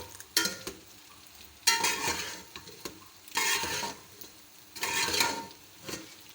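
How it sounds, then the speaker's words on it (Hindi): Spiced masala for veg macaroni fries in a pan and is stirred in four distinct bursts of scraping and sizzling, each lasting about a second, with quieter gaps in between. "इसको आराम आराम से मिक्स करेंगे और सारे जो मसाले"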